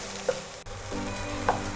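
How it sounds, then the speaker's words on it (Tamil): Chopped shallots sautéing in hot oil in a pan for a goat liver gravy, a continuous close sizzle with a few scraping stirs of a spoon. "நல்லா வதக்கி விடுங்க. வெங்காயம் நல்லா வதங்கட்டும்."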